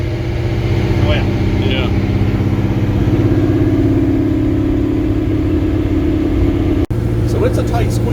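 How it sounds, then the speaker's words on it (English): A Ford GT40 Superformance Ken Miles Daytona replica's engine runs loud and close with a steady throbbing idle from inside the tight cabin, while a person briefly speaks over it. "this motor will use every bit of that tachometer up to that RPM"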